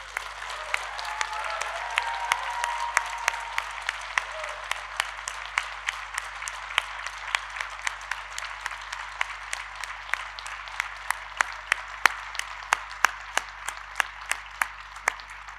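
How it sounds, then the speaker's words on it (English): An audience at a Milton Keynes university degree ceremony applauds the graduates in a hall. A dense crowd of clapping starts full, then thins out into a few individual claps that continue alone to the end. "let's start today's ceremony as we mean to go on by giving all our amazing graduates a huge round of applause."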